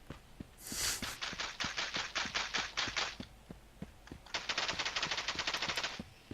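An M2 machine gun lays down suppressive fire in the video game Miscreated, two long rapid bursts of evenly spaced heavy shots, loud and close, split by a short pause.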